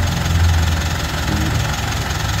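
A Mitsubishi Strada engine idles in park, a steady low rumble and hum that stays loud and close throughout, with no voices.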